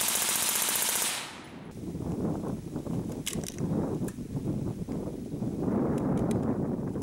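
A Thompson submachine gun fires a long burst from a Surefire magazine, rapid sharp reports rattling at close range after a loud initial blast, continuing for several seconds.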